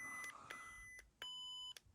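A Proffie V2.2 lightsaber soundboard gives a series of short electronic beeps at a steady rhythm while its volume is lowered with the auxiliary button, clear and isolated with no talking.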